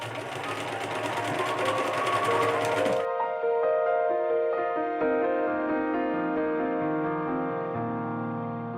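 A sewing machine locks stitches on a Laura Ashley bag from a McCalls pattern, running steadily and close for about three seconds before stopping, followed by a sustained musical tone with no talking.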